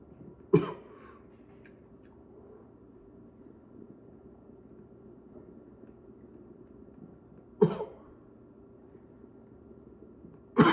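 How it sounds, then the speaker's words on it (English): Two or three sharp, isolated coughs ring out several seconds apart against a quiet, faintly hissing room. "I just cough a lot more."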